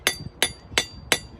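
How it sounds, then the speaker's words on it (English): Four sharp, evenly spaced metallic hammer strikes ring out up close as a blacksmith hammers hot steel on an anvil, each followed by a softer bounce tap. "Why do you keep hitting the anvil in between?"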